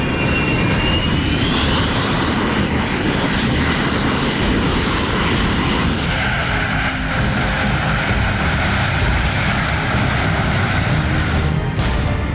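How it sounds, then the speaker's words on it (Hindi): Indian Air Force Globemaster cargo aircraft during a mock earthquake-disaster drill at Bhuj Air Force Station in Kutch, its engines a loud, steady, continuous roar filling the whole stretch with no voices. "इंडियन एयरफोर्स का संकट मोचक माने जाने वाला सबसे बड़ा मालवाहक हवाई जहाज ग्लोब मास्टर MI-17 भी इस्तेमाल हुआ।"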